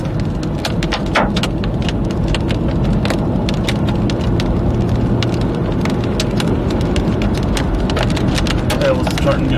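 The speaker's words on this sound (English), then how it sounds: "Hail is starting to get bigger as well." Hail and heavy rain fall during a Texas thunderstorm with tornado risk, making a constant dense wash with frequent sharp, irregular impacts, loud and close, with no talk.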